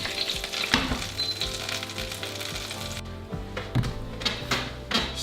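A cheese and tomato omelette sizzles and fries steadily in a pan, with a continuous close crackle, occasional soft scrapes and clinks of a utensil, and no talking.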